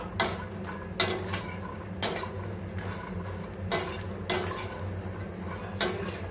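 A spatula scrapes and clinks through about two cups of makhana (fox nuts) frying in a pan, with roughly one stroke a second over a faint sizzle, close and with no voices.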